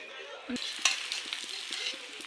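Soft steady sizzling of a roti on a hot tawa griddle, with faint light taps and scrapes now and then, quiet and close.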